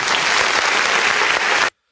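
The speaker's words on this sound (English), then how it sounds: "I think she deserves the little old round of applause." Loud, dense applause from a live show audience, sustained clapping that cuts off abruptly.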